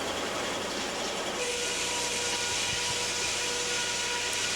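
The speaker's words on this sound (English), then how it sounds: "And the sawing begins." A sawmill blade cuts through hardwood logs with a steady, dense roar and a thin whine that sharpens partway through, loud and continuous, with no voices.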